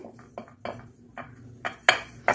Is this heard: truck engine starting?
no